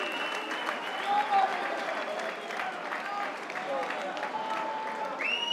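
Arena crowd at a Ravage MMA event applauding and roaring as the fight ends in a quick TKO win for the local favourite, a dense, sustained wall of clapping and cheering throughout with a few brief whistles.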